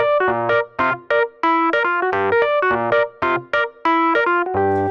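Piano groove with both hands together, a bass left-hand figure under punchy right-hand chords in a tight, syncopated repeating rhythm, close and loud with no voices.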